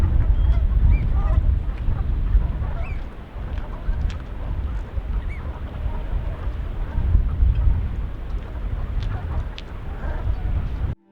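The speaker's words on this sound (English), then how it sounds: "the Brent geese with it, and you could really start to hear their lovely call" Brent geese call from a flock at a tidal shoreline as the tide comes in, a dense chorus of low murmuring honks and croaks over a rushing background, with a voice speaking at times.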